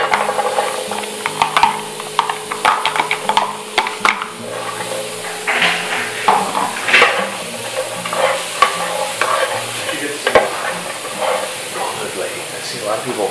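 Stir fry with carrots sizzles and hisses in a ceramic electric skillet with no oil, while a utensil clatters and scrapes irregularly through the food, close up, with a voice speaking over it.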